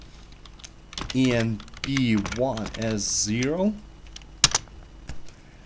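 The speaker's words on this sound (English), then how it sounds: "Now I'll be typing drift net -i." Key clicks from typing a command on a computer keyboard in a terminal, scattered and fairly sharp, mostly under someone talking, with a few isolated taps standing alone near the end.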